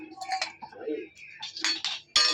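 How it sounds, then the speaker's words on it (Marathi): Ice cubes dropped into green chilli pani puri water in a home kitchen, giving several sharp clinks and clatters against a vessel, loudest at the end, with some softer talk-like sounds between. "आणि त्याच्यात थोडे बर्फचे खडे टाकले"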